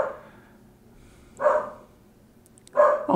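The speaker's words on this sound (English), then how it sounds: "the dog starts barking." A dog barking indoors at home, three short separate barks spaced about a second and a half apart, fairly close and loud against a quiet room.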